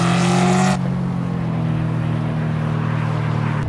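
A Ford Mustang GT in the racing game Assetto Corsa drives along a California road, its engine droning loudly and steadily, with a sharp drop in roar early on as the revs fall back to a lower, even hum.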